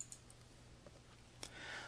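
A computer mouse clicks on worksheet tabs in Excel 2013, with a couple of soft, faint, isolated clicks against a quiet background.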